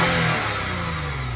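Stock V6 car exhaust before any upgrade, a loud close engine rev that swells then settles, with no talking.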